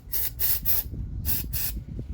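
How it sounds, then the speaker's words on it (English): Four sharp hissing bursts of lithium grease spray onto a lawn mower axle, close and loud, in two pairs separated by a short pause. "we're going to get our lithium grease here, shake it up, and spray it on the axle"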